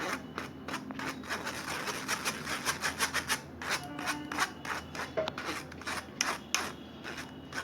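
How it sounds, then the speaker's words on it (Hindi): Ground biscuit powder is stirred and rubbed through a mesh sieve, making soft, repeated scratchy rasps in an uneven rhythm, faint and close, with no one talking. "इस तरह से हमें छान लेना है, ताकि अगर कुछ भी बचा रहे बिस्किट का पार्ट तो इस छन्ने में रह जाए"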